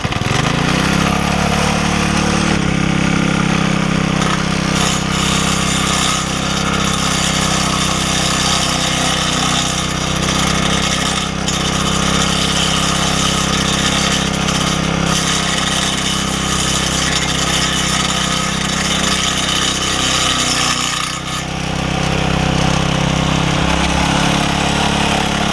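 A small MTD edger engine runs and idles with a steady, loud drone that hunts slightly in pitch and dips briefly near the end, close by and without talk.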